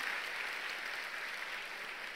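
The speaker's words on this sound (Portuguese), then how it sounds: "Dê um aplauso ao Senhor" Steady, continuous applause from a church congregation during a Portuguese-language sermon, dense clapping filling the room at an even level throughout without a break.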